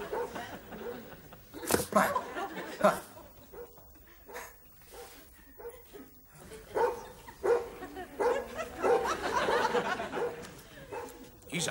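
A dog barks in bursts while it plays with a stick indoors. Several loud, close woofs come in uneven clusters, mixed with people talking and chuckling.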